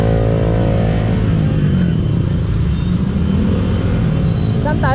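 A motorcycle engine drones steadily as the bike pushes through deep floodwater on a flooded city road, loud and close, with a voice speaking over it.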